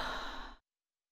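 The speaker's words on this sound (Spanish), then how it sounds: "Un buen bostezo." A video-game character in Mirror Mirror lets out a single long, breathy yawn before bed. It is close and fairly loud, then cuts off into silence after about half a second.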